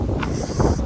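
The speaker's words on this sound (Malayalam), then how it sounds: "നല്ല തണുത്ത കാറ്റ്." Cold coastal wind on the Great Ocean Road buffeting the microphone in a loud, steady rush, with brief swells of gusting over less than a second.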